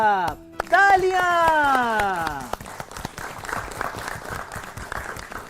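A drawn-out, sing-song voice opens, then an audience on a children's educational show breaks into lively, crackling applause that carries on steadily to the end.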